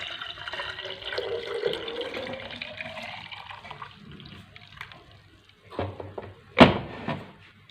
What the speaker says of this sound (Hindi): अब हम इसको एक जग में निकाल लेंगे।